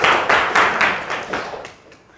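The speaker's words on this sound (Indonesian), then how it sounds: "coba tepuk tangan dulu sama teman kita" A classroom audience claps in short, rhythmic unison for a few beats, the clapping fading out within a couple of seconds.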